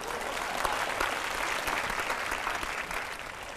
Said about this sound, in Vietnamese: xin cho một tràng pháo tay cổ động